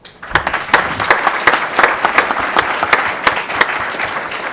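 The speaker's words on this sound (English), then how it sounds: "Again, round of applause." An audience applauds its panel speakers and moderator with loud, close, brisk clapping. It starts abruptly and keeps a busy, uneven rhythm throughout.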